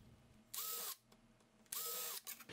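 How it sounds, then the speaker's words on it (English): A drill bores saw-blade entry holes in plywood, giving two short, loud whirring bursts separated by a brief pause. "Next, drill your saw blades entry holes."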